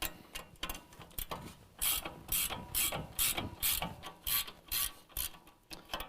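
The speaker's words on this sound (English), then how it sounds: "we're going to remove the 18mm nut that's holding our upper control arm to our knuckle." Ratchet clicking steadily as an 18mm nut comes off the upper control arm at the knuckle of a 2017 Ford Raptor, a regular series of sharp mechanical clicks, close and fairly quiet, with no talk.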